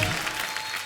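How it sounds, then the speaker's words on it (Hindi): Studio audience applause from a comedy talk show, a brief burst of steady, dense clapping filling the moment without voices. "ठोको ताली ठोको ताली ठोको ताली"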